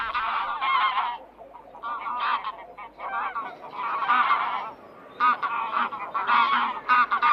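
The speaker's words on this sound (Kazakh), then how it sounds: "қаз" A goose honks loudly and repeatedly in a busy flurry of harsh, nasal calls. The calls come in bursts over faint background noise, with no talking.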